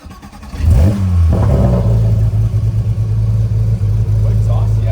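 A rebuilt Porsche GT3 RS engine with aftermarket headers and titanium catback exhaust revs hard and then holds a loud, steady drone with a raspy exhaust tone, close by, with voices faintly underneath.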